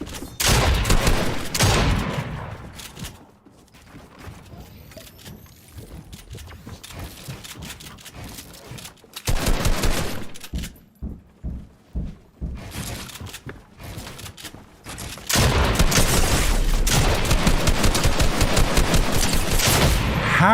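Dense, loud bursts of rapid gunfire crackle in the Fortnite video game, with a quieter stretch of scattered single shots in the middle before heavy continuous firing resumes.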